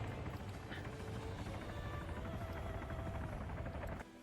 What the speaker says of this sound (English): I also hear that chopper coming in